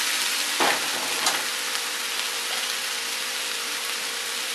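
Mushrooms sizzle and fry steadily in a hot pan for a taco filling, a dense continuous crackle with a couple of brief stirring bursts near the start, no talking.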